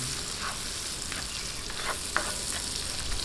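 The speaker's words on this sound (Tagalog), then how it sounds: "Ayan, lagay po natin itong sibuyas." Onion frying with garlic in a pan, a steady close sizzle heard alone, with a few faint stirring taps.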